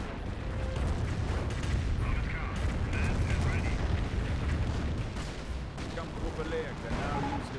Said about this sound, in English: Two Panthers are now receiving Calliope rockets.